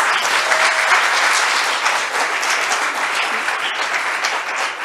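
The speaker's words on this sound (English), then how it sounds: "Can we give them one more round of applause?" A crowd gives sustained, dense applause at a community campaign launch event. The clapping stays loud and even for about five seconds, with no talk over it.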